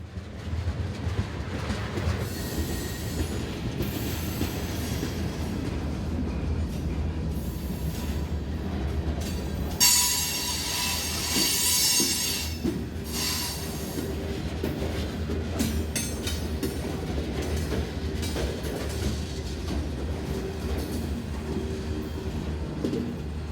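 A CSX freight train hauling liquefied petroleum gas tank cars passes close by on the Cumberland Subdivision in Maryland, giving a continuous heavy rumble with rhythmic clickety-clack and a burst of high wheel squeal partway through.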